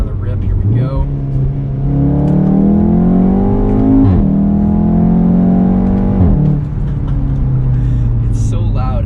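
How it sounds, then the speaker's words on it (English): A Mk7.5 Golf R with a Remus valved catback exhaust revs hard and loud, engine pitch climbing, easing, then rising again in repeated pulls before settling near idle. "This car sounds awesome. I'll give you guys another rip."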